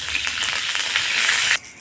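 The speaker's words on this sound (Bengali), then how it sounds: "তেলের মধ্যে আমি ফোড়ন দেবো তেজপাতা, গোটা শুকনো লঙ্কা আর গোটা জিরে" Hot oil sizzles and spits in a wok, ready for tempering, in a loud, dense crackle with small bursts of stirring, then drops off abruptly near the end; no voices.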